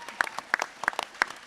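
Brief scattered clapping from a convention panel audience, a handful of distinct claps close by rather than a full ovation, quick and uneven.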